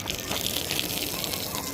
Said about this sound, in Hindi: और हाफ प्लेट अभी हमने इसको पानी मारा।